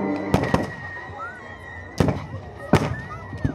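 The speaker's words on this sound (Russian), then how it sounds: "Кругом слышатся звуки стрельбы и виднеются клубы дыма." Bursts of gunfire at a WWII battle reenactment staging the Bobruisk encirclement of 1944: sharp loud cracks in irregular clusters, several shots close together, then pauses, with faint background noise between.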